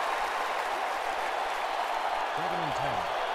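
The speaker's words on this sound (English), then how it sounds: "That gets the crowd a little bit fired back up again." A football stadium crowd at a Baltimore versus Dallas game cheers and applauds in a dense, steady roar, heard under a commentator's voice.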